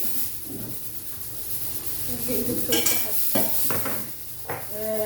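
Potatoes cook in olive oil in a pan with a steady close sizzle and hiss, while a utensil scrapes and clinks now and then.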